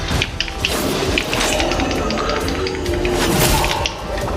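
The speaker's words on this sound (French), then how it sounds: "Une tempête approche." A thunderstorm in the video game Clair Obscur: Expedition 33, with dense steady rain and rumbling thunder mixed into a loud, continuous wash of storm noise.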